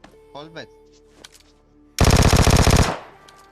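A video game gun fires one rapid automatic burst for about a second, loud and close, after brief talk and background game sounds.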